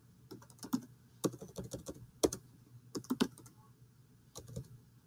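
Someone types on a computer keyboard up close, irregular bursts of crisp key clicks with short pauses between them, quiet and alone without speech.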